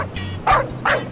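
A small dog gives two quick, high yappy barks close by, separated by a brief pause.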